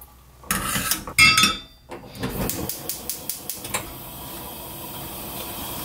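Metal utensil clinking and scraping against a pot while lifting anchovies out of simmering broth for sundubu-jjigae, a few sharp clatters followed by a run of light rhythmic taps, close and fairly clear with no talking.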